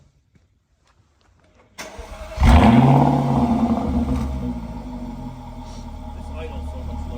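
An old Jaguar GT, one of the rarest Jaguars, cranks and fires up after a quiet start, then settles into a loud, steady, low idle, with a brief spoken word near the beginning.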